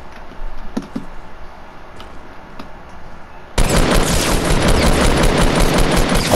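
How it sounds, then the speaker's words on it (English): Loud, dense gunfire from a Fortnite tactical shotgun, with a few sharp cracks early on and then a sudden, sustained roar of rapid shots and blasts filling the rest of the scene. "A tactical shotgun from me."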